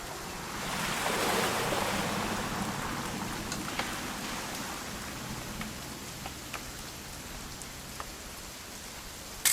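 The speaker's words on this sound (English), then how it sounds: "It's gonna rain the whole weekend, isn't it?" Steady rain in the video game What Remains of Edith Finch, a broad, even hiss of falling drops with a faint low rumble beneath, holding at a constant level throughout with no voices.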